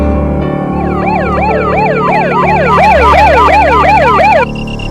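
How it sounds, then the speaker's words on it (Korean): Several fire truck sirens wail at once, their overlapping rising and falling tones stacking up loud and close over a steady low engine hum, then cutting off near the end. "수화기 너머로 사이렌 소리가 들리자"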